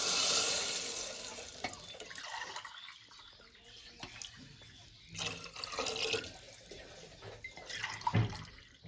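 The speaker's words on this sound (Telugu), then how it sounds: "ఇప్పుడు ఈ గ్లాస్కి 3 గ్లాసులు వాటర్ అనేది వేసుకోవాలండి." Water pours into a pot of samai millet rice, a steady splashing stream that fades in the middle and then returns with a few louder splashes near the end, close by.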